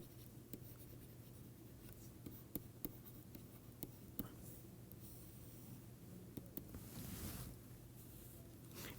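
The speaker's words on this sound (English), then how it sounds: "I will write on the next page" Pen writing on paper during a mathematics lecture, faint scratching strokes with sharp taps at irregular intervals over a low steady hum.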